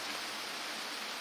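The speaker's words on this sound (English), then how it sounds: "Oh, it's starting to rain now. It's raining." Steady rain falling during a thunderstorm, a dense, even hiss of drops that stays constant and fairly close, with no voices or thunder heard over it.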